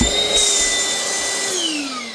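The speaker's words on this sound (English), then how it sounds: "Turn your vacuum on and" A vacuum cleaner motor whines steadily and loudly while used with a dryer vent cleaning tool for suction, its pitch sliding down slightly toward the end.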